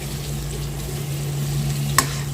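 Egg stirred into tomatoes frying in a pan, a steady close sizzle with soft stirring scrapes and one sharp clink near the end, no talk.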